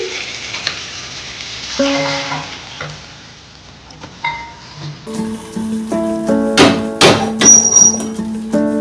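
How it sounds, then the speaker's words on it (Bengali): Pieces of katla fish fry in hot oil with a soft, continuous sizzle, broken by the scrape and clatter of a utensil turning them in the pan nearby. "দু পিঠ লাল করে ভেজে নেব দু পিঠ ভাজা হয়ে গেছে"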